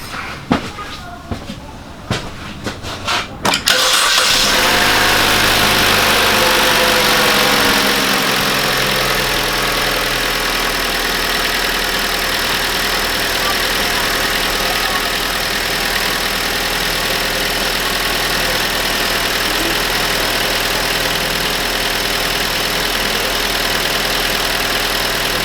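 A Holden Barina turbo car engine cranks briefly and catches, then settles into a steady, close idle that runs on alone with a constant hum and rattle.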